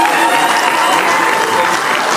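Wedding guests applauding at a civil and religious ceremony, a steady, loud, close wash of many hands clapping throughout with faint crowd noise beneath.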